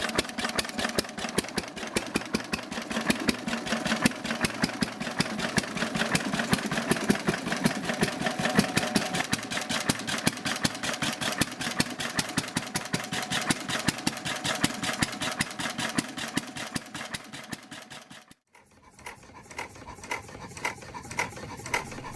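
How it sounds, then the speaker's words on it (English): A vintage Deutz MA216 horizontal stationary engine from the early 20th century, weighing 216 kilograms, runs with a loud, steady rapid chugging beat that holds for most of the stretch, then briefly dips near the end before resuming quieter. "Weighing 216 kilograms, the Deutz MA216 is a fine example of early 20th century engineering efficiency."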